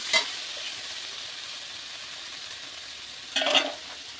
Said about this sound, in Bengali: হলুদ এবার ভালো করে আমি কষিয়ে নেব।